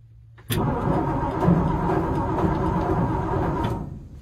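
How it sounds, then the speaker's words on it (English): A 1963 Ford F-100 truck engine cranks over after a quiet moment, a loud, sustained churning that holds steady for about three seconds before easing off. "You can hear the engine turn over."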